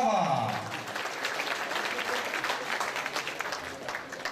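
Applause from an audience at the opening ceremony of a 2019 sports event in Drzonków fills the scene, sustained and even after a voice fades out at the start.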